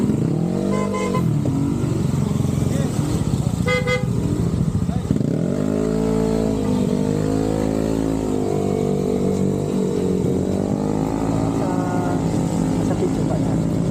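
Motorcycles on a group ride in Laguna idle and rev nearby, with a couple of short horn toots early on, while people talk over the engine drone.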